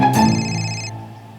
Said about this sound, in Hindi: रोज इसी टाइम फोन करके मुझे डिस्टर्ब करते हैं